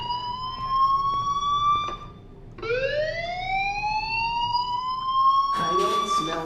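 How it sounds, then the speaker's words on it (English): Fire alarm in the video game Life is Strange, a steady electronic tone that rises in pitch, cuts out briefly, then swells back in, loud and close, with a sharp noisy burst near the end. "do you hear that fire alarm? That means you should be outside."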